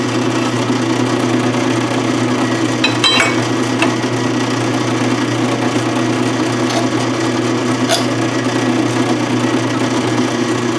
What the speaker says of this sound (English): make sure they're not going to get in the way of your drill spindle as you're bringing the drill bit down